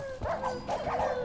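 Dogs in the Minecraft video game bark in a short burst of several quick yips and barks, close and clear, with game background noise beneath.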